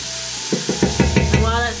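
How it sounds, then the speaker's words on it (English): Squash and zucchini cook down in a pan, a steady close sizzle with a series of quick stirring knocks and scrapes in the second half. "And you just want to cook that down until the vegetables are softened."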